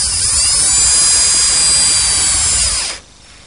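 A power drill drives 1 5/8-inch screws into the wooden fence of a router station, a loud steady whir that holds for about three seconds, then cuts off to quiet.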